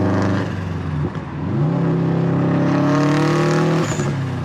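Subaru STI hatchback engine rumbles loudly nearby, its pitch climbing steadily as it revs under acceleration, then easing off with a brief shift near the end; no voices.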